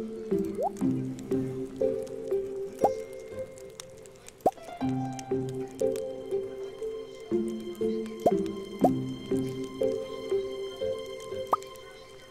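Repeated watering-can sound effects from the farming video game Stardew Valley, a rhythmic series of splashy drips and liquid pours cycling steadily, with in-game music tones running through.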